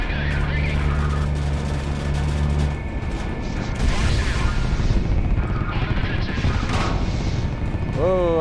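In the flight combat video game Project Wingman, enemy gunfire strikes the player's aircraft as a rapid burst of crunching impacts and crashes over a droning engine and tonal cockpit sounds.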